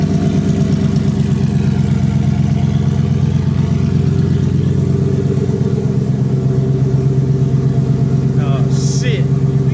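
An 800hp turbocharged Ford Mustang rumbles loud and close with a steady throbbing idle, the pitch rising slightly as it revs, with a brief voice near the end.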